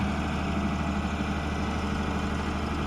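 A steady low engine drone runs without a break from an excavator working sandbags on a dam, heard at a distance and unchanging throughout.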